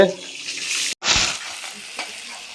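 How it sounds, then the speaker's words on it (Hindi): Onion sizzles in oil tempered with cumin, the same oil an egg was fried in. A spatula stirs the pan with a steady hiss, broken by a brief cutout, and no one speaks. "जिसमें अंडा फ्राई हुआ था सेम ऑयल में जीरा का फोड़न देखिए प्याज डाल दिया गया"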